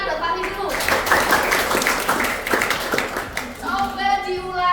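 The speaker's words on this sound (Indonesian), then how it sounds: "Tepuk tangan buat Fahri dulu." A classroom bursts into brief applause for a student named Fahri, a dense patter of many hands clapping at close range. The clapping fades after a few seconds, and voices and talk continue over and after it.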